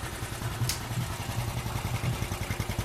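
A motorcycle engine in a short film thumps with a steady, rhythmic low pulse, close and moderately loud, with one brief sharp click near the start.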